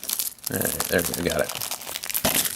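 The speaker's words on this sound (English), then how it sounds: "That's surprisingly difficult to unwrap this thing." Plastic shrink wrap torn and peeled off a Gears of War: Judgment Xbox game case, crackling and crinkling loudly up close in bursts while someone talks briefly.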